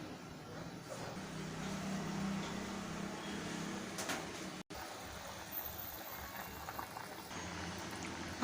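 Malvani-style cauliflower curry in coconut masala bubbles as it boils in a pot, a steady, faint simmer that runs on with a momentary dropout.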